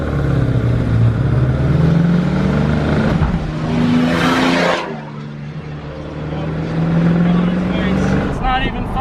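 Two diesel work trucks, one a completely stock 7.3 with no tune, race side by side in a drag from a rolling start. A loud, steady engine drone rises in pitch, surges midway, then settles back into a sustained roar.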